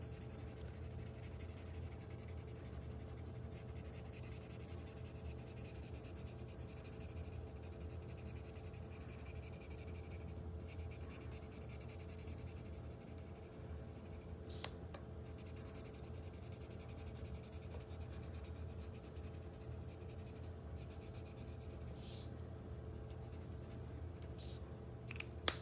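Quiet, steady scratching of crayon or marker on paper, soft and continuous with a few faint taps.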